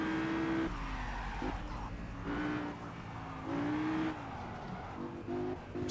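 Race car in Project Cars sliding through a corner, engine droning with shifting pitch while tyres squeal and skid, a steady close game-audio mix with no talk.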